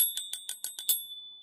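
A Tibetan-style gilt bronze object shaped like a bell but without a clapper is struck about six times in quick, even succession. It gives bright, crisp metallic rings, close and clear, and a single high tone lingers after the last strike.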